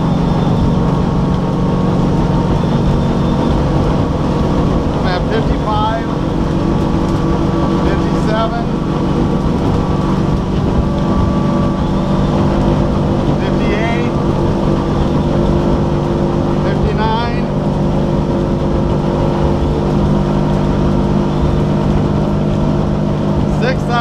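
A Ymarina 24 motorboat engine runs at maximum RPM, around 6,000, as a loud steady drone with constant wind and water rush throughout and a few faint chirps on top.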